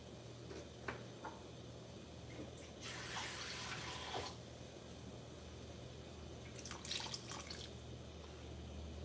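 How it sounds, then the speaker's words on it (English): A bit more water poured into a pot of simmering chilli meat, heard as two bursts of splashing and trickling under a steady low kitchen hum, with faint drips in between. "We're just going to add just a wee bit more water."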